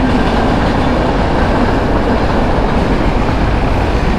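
A train rolls along tracks running right beside a road in rural Bangladesh, a loud, continuous close rumble of wheels and carriages that holds steady throughout without a break.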